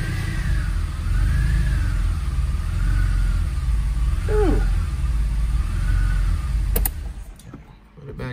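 The engine of a 1981 DeLorean DMC-12 under restoration runs with a steady mid-pitched hum and slight rises in revs, nearby, before it cuts out abruptly near the end.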